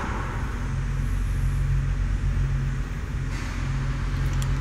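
A 1979 Volkswagen Brasilia's engine runs steadily with a dense, continuous low rumble, close and loud, with no talk over it.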